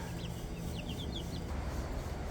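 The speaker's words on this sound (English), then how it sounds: "we got 8 more chickens, so we'll have 23 total, a turkey and 2 ducks for our flock" Backyard chickens in a desert-city yard cluck in short, soft, repeated calls, several quick chirpy notes coming from nearby over a low ambient background.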